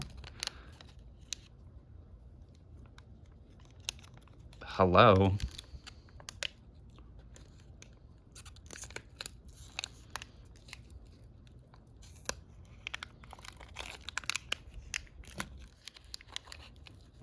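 Scissors snipping open a small paper packet of Magic Mixies gold dust, one short crisp cut and tear standing out amid quiet handling rustles and clicks, with a brief spoken word nearby.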